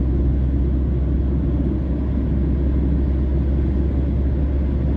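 A steady, loud, low engine rumble and road roar from inside an MSRTC state transport bus as it overtakes a Shivshahi bus on the Kolhapur to Pune highway, continuous without breaks.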